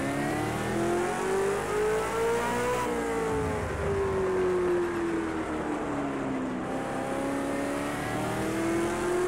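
A V8 Supercar engine in Project CARS 2 at COTA rises in pitch, then eases off and climbs again, a loud, close, continuous drone with no speech.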